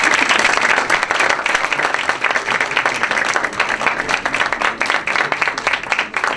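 Dense, steady applause from a conference audience fills the whole stretch, loud and continuous with no voices over it.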